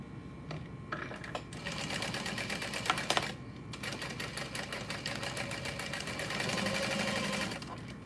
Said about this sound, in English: then we'll top stitch that on.